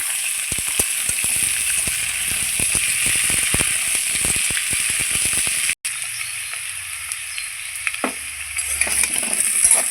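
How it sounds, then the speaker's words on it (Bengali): Large cubes of squash and potato frying in a pan, a loud sustained sizzle with rapid spatula scrapes and clicks, briefly cutting out then resuming as a quieter fizz with a few knocks. "আমি কোয়াশ আলু কত সুন্দর করে ভেজে নিয়েছি ডুমডুম করে কেটে ভালো করে ভেজে নিয়েছি"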